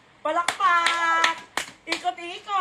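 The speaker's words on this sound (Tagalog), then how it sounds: "Palakpak!" People clapping hands during an Instagram live: several sharp, separate claps scattered through loud, excited speech from a nearby voice.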